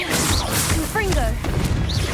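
A Confringo spell blast in Hogwarts Legacy, a sharp whooshing burst with a crashing impact, heard over busy game effects and a swirling magical shimmer.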